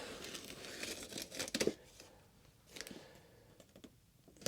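Package being cut open during an unboxing, with bursts of tearing and crinkling of packaging material, close and moderately loud, followed by quieter rustling and a few clicks.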